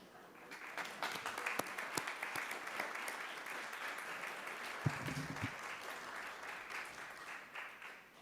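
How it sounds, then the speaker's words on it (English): Church congregation at Sunday worship applauding its volunteers, a soft, distant wash of many hands clapping steadily, with a few sharper claps and a brief low thump partway through. "thank you for sharing a round of applause to show our thanks to each other"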